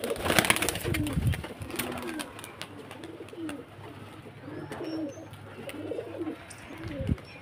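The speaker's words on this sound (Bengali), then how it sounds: "এই যে ফ্রেন্ডস বাজি দেখুন, পায়রা" Racing pigeons coo close by in soft, repeated low warbling calls, with faint rustling and background noise.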